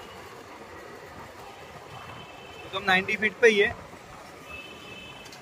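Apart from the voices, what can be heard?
metro train passing overhead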